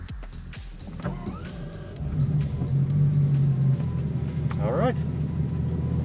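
A Bugatti Chiron Sport engine fires up about two seconds in, a deep rumble swelling and settling into a steady idle, with a brief whir and people talking nearby.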